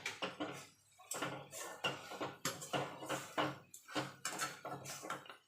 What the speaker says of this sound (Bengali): এবার ভালো করে মিশিয়ে নেব।